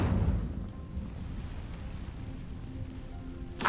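Incendio fire spell cast in Hogwarts Legacy, a loud rushing burst at the start that settles into a low rumbling roar, with a second brief flare near the end.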